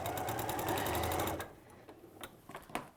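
A domestic sewing machine stitches a large quilt-as-you-go project, running in a loud, steady buzzing burst for about a second and a half, then stopping, leaving faint handling clicks and rustles of fabric.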